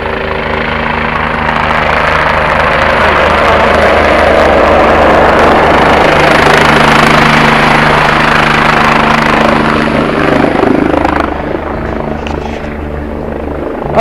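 A rescue helicopter hovers close overhead in a snowy mountain valley while picking up a hiker, its loud, steady rotor thrum and turbine whine filling the scene before easing slightly near the end.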